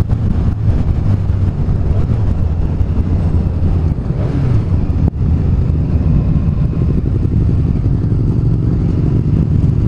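A Triumph roadster, one of three riding along a coastal road, runs with a steady low engine drone and a dry clutch rattle, heavily buffeted by constant wind noise with no talk.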